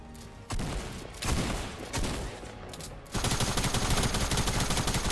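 Prop hunt video game gunfire: separate loud bursts of automatic shots, then continuous heavy rapid fire in the final seconds, with no voices over it.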